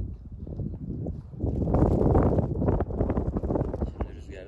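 Strong wind outdoors in open countryside roars and buffets the microphone, swelling louder in the middle, with a voice faintly underneath at times.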